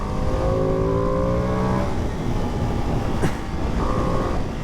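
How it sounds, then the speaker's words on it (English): A 2025 Ducati Panigale V2S sports bike engine climbs in pitch under acceleration, drops off, then rises again. A brief sharp click marks the gap, and the engine sound stays loud and close throughout. "this engine will pick up quicker than the old V2"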